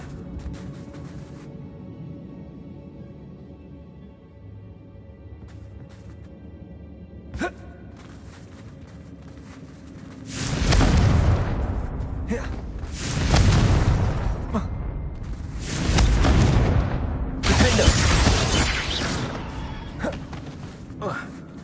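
Repeated Confringo blasting-spell explosions in the Hogwarts Legacy video game, several loud booming bursts arriving in close succession after a quieter stretch with spell cues.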